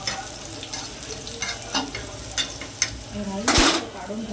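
Prawn curry masala frying in a pan, a soft steady sizzle with occasional stirring scrapes and one sharp clatter near the end, close and moderately quiet, with a voice speaking faintly.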